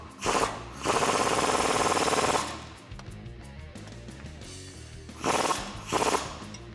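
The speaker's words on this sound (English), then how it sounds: "So I'm going to tighten up this bottom bolt first using a 13mm wrench and socket" A 13mm wrench and socket tightens the bottom bolt of a 3-inch MotoFab lift kit on a Jeep Wrangler JK, giving two bursts of rapid ratcheting, one short and one long, then two brief bursts after a quieter pause.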